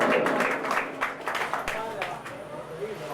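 An audience at a mushaira claps to welcome a poet, a burst of dense applause that thins and fades, with a voice speaking over it.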